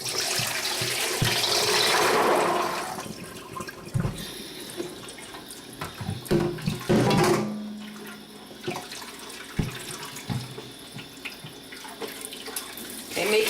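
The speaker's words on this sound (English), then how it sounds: "So we're going to go ahead and rinse these and then cover them again with about another inch of cold water." Soaked dried beans for falafel rinsed under running tap water in a sink, a steady broadband rush of flowing water with splashes and clatter, loudest at the start and again midway.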